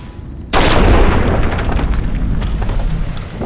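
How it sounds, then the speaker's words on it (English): Traveling merchants trade gunfire in a video game set around Las Vegas: a sudden, loud, close boom bursts in and then gives way to a sustained, rumbling wash of noise. "Are traveling merchants shooting at each other?"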